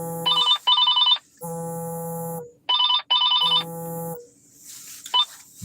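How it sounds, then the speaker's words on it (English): A phone rings with an incoming call, its electronic ringtone sounding in repeated bursts with short gaps, loud and close with nobody talking. "I think I got a phone call"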